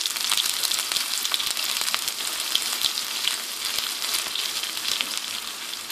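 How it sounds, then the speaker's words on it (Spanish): Potato and cheese quesadillas frying in hot oil, a steady dense sizzle with crackling pops running the whole time, close and fairly loud with no talking. "Aquí ya tenemos nuestro aceite caliente, ahí se ve. Vamos a meter nuestras quesadillas."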